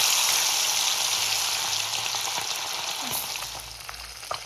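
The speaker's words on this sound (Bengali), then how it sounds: "এবার আমি এর মধ্যে আস্তে আস্তে মাছগুলোকে ছেড়ে দেবো। মাছগুলোকে আমি গরম তেলে দিয়ে দিলাম।" Small puti fish sizzling in hot oil, with a loud, dense crackle at first that eases slightly as the fry settles, alone with no talk.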